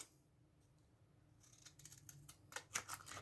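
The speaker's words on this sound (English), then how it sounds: "I take some large scissors" Quiet snipping of large scissors, starting faint and growing into a quick run of sharp cutting clicks toward the end, close by.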